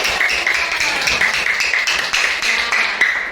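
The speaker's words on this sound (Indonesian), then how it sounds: "tepuk tangan" A class of schoolchildren claps in a quick, regular patterned rhythm, close and loud, the sharp slaps falling in repeated bursts with no talking over them.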